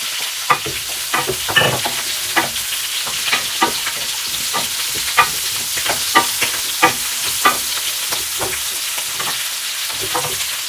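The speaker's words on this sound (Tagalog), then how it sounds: "Okay, mag-saute na tayo. Garlic at saka onion." Garlic and onion sizzle steadily in a hot pan while a utensil scrapes and stirs, giving sharp clicks every second or so over a constant frying hiss, close and fairly loud with no talking.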